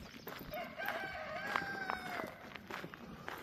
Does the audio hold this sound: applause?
no